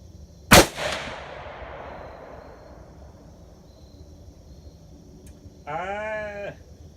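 A single loud, sharp report from a Ruger Precision Rifle, close by, with its echo rolling off slowly afterward; a short bleating animal call sounds later on.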